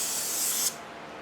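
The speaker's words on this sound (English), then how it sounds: "So setting 1, high output, spray pattern test." A Rust-Oleum spray paint can on its high output nozzle setting releases one strong, steady hiss for about two-thirds of a second, then cuts off sharply, leaving a quieter residual hiss.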